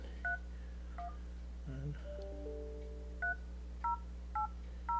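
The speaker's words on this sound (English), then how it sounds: "Let me try here, and I'm going to dial that number" A Southwestern Bell Freedom Phone sounds a series of short, clear dialing tones over a steady hum, with a few evenly spaced beeps and a brief longer tone sequence, and no talking.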